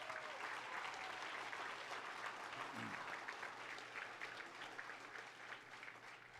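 An audience at an awards gala claps in a steady, full round of applause that holds for several seconds and gradually thins out toward the end.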